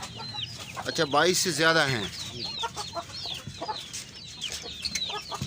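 Shamo and Pakistani Aseel roosters and hens cluck and chirp in a backyard coop setup, a steady scatter of calls running beneath a man's conversation.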